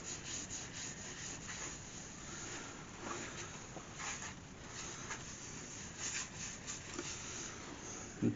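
Wax being buffed by hand onto figured walnut wood makes a rhythmic, close-up rubbing, a series of soft repeated strokes with a slightly sharper brush at the very end.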